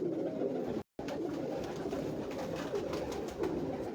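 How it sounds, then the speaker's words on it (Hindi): Dab pigeons on a Lahore rooftop give soft, repeated cooing calls, close by, over a low steady background hum with one brief dropout. "ये है जी डब वाले कबूतर"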